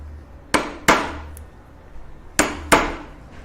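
A hammer taps guide marks for drilling holes in a chair's backrest and seat: four sharp, close strikes in two quick pairs, with a faint tap between them, in a quiet room.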